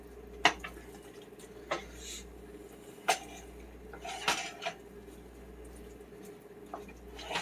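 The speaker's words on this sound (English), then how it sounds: "I'm going to go ahead and just give this a stir to coat my meatballs in gravy" Meatballs being stirred in gravy in a pot as Swedish meatballs cook, with several sharp utensil knocks against the pot scattered over a steady low background hum, no voices.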